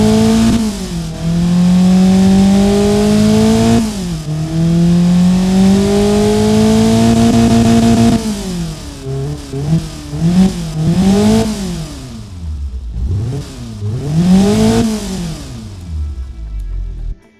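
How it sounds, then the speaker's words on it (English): A tuned Daewoo S-TEC II 1.0L engine in the Automation game revs loud and close, holding high rpm in long sustained pulls with sharp drops between them, then blipping up and down in quick short bursts. "let's fire up now and hear the extra RPMs"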